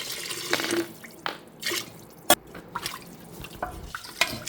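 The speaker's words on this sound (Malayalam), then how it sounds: "അതിലേക്ക് ആവശ്യത്തിന് വെള്ളം പാരുക" Water splashes and trickles into a pressure cooker in uneven bursts, with drips and a sharp clink of metal partway through; no talking.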